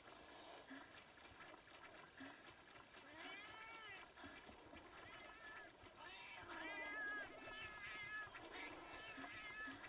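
Cats in a Wii U game meow and caterwaul in overlapping bursts, several voices crowding a dense, busy game soundscape with a watery trickle underneath.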